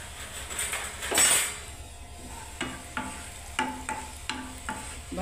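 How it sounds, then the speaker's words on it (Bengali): Dried red chillies fry in a little oil in a wok with a quiet sizzle, while a metal spatula stirs them, giving a few sharp clinks and scrapes against the pan. "ভালো করে লঙ্কাটাকে ভেজে নিচ্ছি আগে।"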